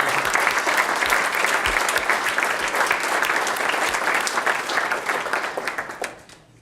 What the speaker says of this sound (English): I think we owe him another round of applause